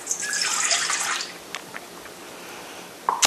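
Water is poured into a stand mixer bowl as a bread dough is started, a bright splashing stream for about a second and a half that stops, followed by a few faint drips and small knocks.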